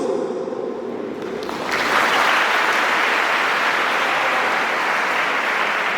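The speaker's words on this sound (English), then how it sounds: "let's give a thunderous round of applause as we welcome our guests from the visiting schools" Large crowd at a school raising day celebration gives a thunderous, sustained round of applause for visiting school contingents, building after a second into a dense, even roar of clapping.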